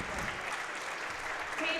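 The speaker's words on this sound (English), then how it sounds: "Alicia Ratcliffe, who gets the loudest applause from the crowd, and Casey Thurber." A crowd applauds at a women's NCAA Division III volleyball match during player introductions, a steady wash of clapping with an announcer's voice talking over it.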